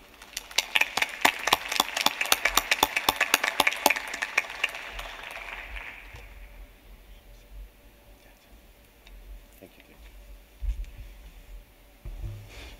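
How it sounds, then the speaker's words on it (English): Audience at an intergovernmental committee session applauding a speaker welcomed to the stage, sparse distinct claps for about six seconds that fade out, leaving quiet room noise with a few soft thumps. "So let's welcome him with an applause."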